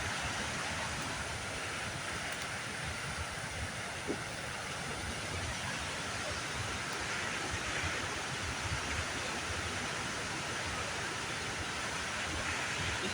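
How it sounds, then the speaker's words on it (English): Fast-flowing stream water rushes below a beaver dam in a steady, broadband roar that stays even and close throughout, with no voices over it. "that's awful fast water to be trying to survive in"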